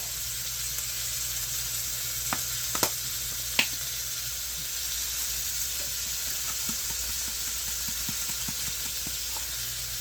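A stir fry sizzling in a pan, a steady close hiss of frying with a few clinks of utensils early on and faint scattered crackles, with no talking.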